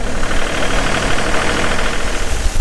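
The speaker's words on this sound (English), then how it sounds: "Speed up the engine a little." A farm tractor engine runs steadily near the grain bins, a dense low rumble with knocking texture holding loud and close as it is throttled up slightly.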